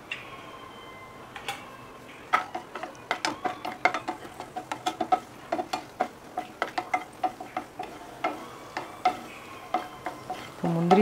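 Cashews frying in a pan for millet payasam as raisins go in, a spoon tapping and scraping in quick, close, fairly even clicks over a faint background sizzle.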